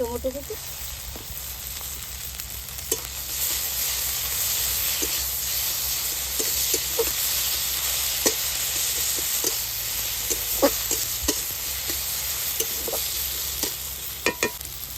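Ground spice paste fries in a hot pan for a cauliflower curry, a steady close sizzle with regular spoon stirs tapping and scraping through it, a few sharper clacks near the end.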